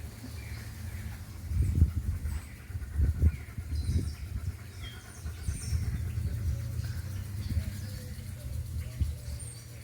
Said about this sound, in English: All I can hear is birds, lots of birds.